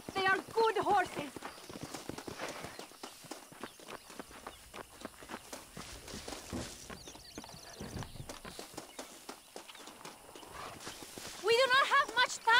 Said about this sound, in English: They are good horses.